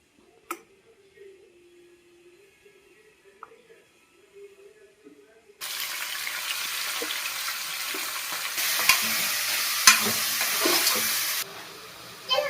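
Oil poured into a hot pan for mutton sambar bursts into loud, steady sizzling and crackling halfway through, after a quiet stretch of faint handling noises and a low hum, with a voice speaking briefly.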